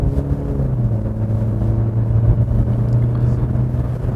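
A 2025 Mercedes-Benz E200 Avantgarde accelerates in comfort mode, its engine heard from the cabin as a smooth, steady low hum that rises slightly in pitch, loud and continuous with no speech.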